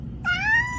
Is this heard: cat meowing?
yes